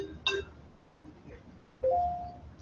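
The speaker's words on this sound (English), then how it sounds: "That's an email right there." A phone notification chime rings out near the start with bright tonal strikes, and a second alert tone sounds about two seconds later, clear and fairly loud over a quiet room background.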